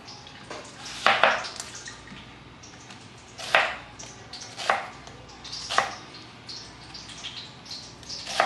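Knife strokes chopping onion on a cutting board for pineapple shrimp, several separate crisp thuds spaced irregularly over a quiet kitchen background.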